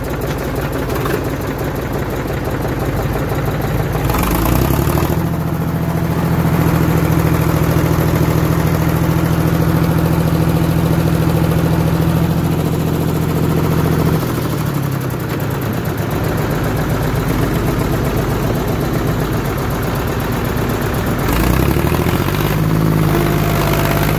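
A Sonalika tractor engine runs steadily at close range for the whole stretch, a loud low diesel drone with brief revving surges near the start and again toward the end.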